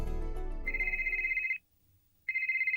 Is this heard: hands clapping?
no